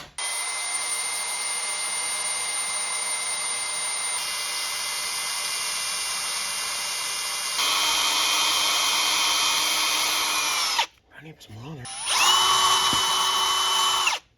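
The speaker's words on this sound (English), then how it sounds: "Dad's gonna try and drill a very small hole in right here" A power drill bores a small hole in the throttle linkage of a 1966 Plymouth Fury III with a 318 engine, giving a loud, steady high whine that shifts pitch, stops briefly, then spins up again nearby.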